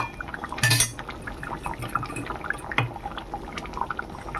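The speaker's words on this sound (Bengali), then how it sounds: "বেটে রাখা গরম মশলা দিয়ে দিলাম।" Ground garam masala paste goes into moong dal cooked with a fish head, with a bright clatter of a utensil against the pot, then wet stirring and small scraping clinks, close by and without speech.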